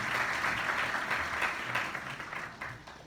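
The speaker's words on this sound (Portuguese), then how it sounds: "Gente, salva de palmas pela iniciativa do Scott e muito obrigado pela presença de todos." Audience applause at a talk on personal presentation for job selections, a soft, even patter of clapping from a modest crowd that thins and fades toward the end.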